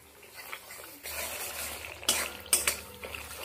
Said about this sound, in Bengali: ভালো করে ধৈর্য ধরে একটু মশলাটাকে ভালো করে কষিয়ে নিতে হবে।